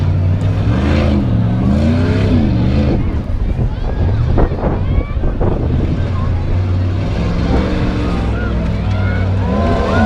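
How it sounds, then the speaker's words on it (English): Full-size Dodge pickup truck engine running loud and continuous at a tuff truck event at a Michigan fair, revving and surging up and down, with wind buffeting and people talking over it. "on the move in his full-size Dodge pickup truck"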